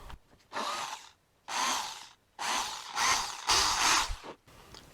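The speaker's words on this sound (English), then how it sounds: "On the drill here, I've got a center finding drill bit" A hand drill fitted with a spring-loaded, self-centering bit bores holes in a woodworking furniture build, heard as four loud, close whirring bursts separated by short pauses, with a fainter fifth run at the end.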